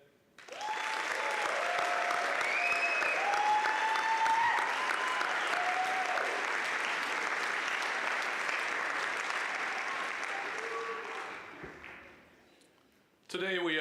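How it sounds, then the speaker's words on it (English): Sustained applause from a commencement audience honoring new university graduates at a 2024 winter ceremony, steady and full for about eleven seconds before fading out, with voices faintly mixed in. "Just one more round of applause for all the graduates from today."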